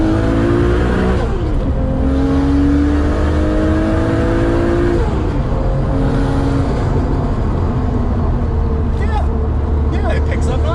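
A 736bhp straight-six turbo Nissan R33 GT-R engine roars loudly while accelerating through gears, pitch climbing and dropping with shifts, heard from inside with people talking over it.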